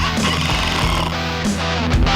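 A power driver whirs loudly and steadily up close, driving screws into a glued and clamped wooden lumber rack shelf built from 2x4s, with brief dips in pitch as the screw seats.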